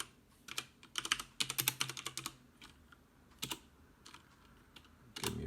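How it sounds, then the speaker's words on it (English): Quick, quiet clatter of typing on a computer keyboard, irregular bursts of keystrokes with brief pauses, close but soft and alone. "Give me a few seconds,"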